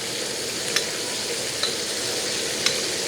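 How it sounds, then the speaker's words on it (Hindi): Ginger garlic paste fries in a pan with a steady, dense sizzle, close and loud, broken by three brief clicks or taps of a utensil and no talking. "इसको हम फ्राई करते हैं। साथ में अदरक लहसुन का पेस्ट,"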